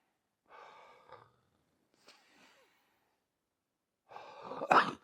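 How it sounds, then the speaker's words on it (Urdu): A few breathy sounds at close range: a short inhale, a faint pause, then a sharp deep breath and forceful exhale near the end. "ایک مکہ مار کے تو آپ نے لمبا سانس لینا ہے"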